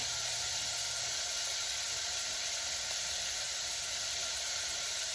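Vegetables and peppers sauteing in a pan give a steady, even hiss and sizzle, close and moderately loud, with no talking.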